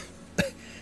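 A single short, sharp cough in a narrated game scene, close and isolated against a quiet background.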